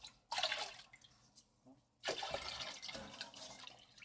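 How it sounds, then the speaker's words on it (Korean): Water and solid ingredients are poured into a large 12-liter stockpot in two splashing bursts, with a brief quiet gap between them and a steady pour trailing on after the second. "들통에다가 붓고 건더기도 다 부어요"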